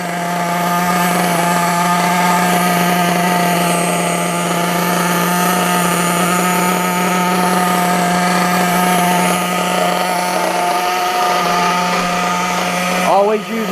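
An RTR pull-start nitro engine idles during break-in, a steady, loud, high-pitched buzzing drone that holds evenly for the whole stretch with only a brief change at the very end.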